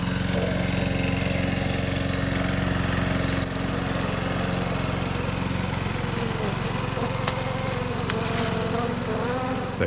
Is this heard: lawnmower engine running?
yes